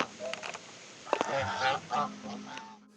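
Goose honking on a pond-side walking path on a university campus, several loud nasal honks in irregular bursts, close by, with no talk.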